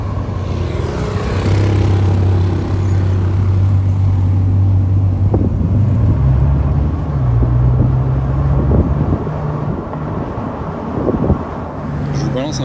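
Three Bugatti Chiron cars driving together in a convoy give a steady, loud engine drone whose pitch rises and shifts. Heavy wind buffeting runs throughout, with muffled talk in the background.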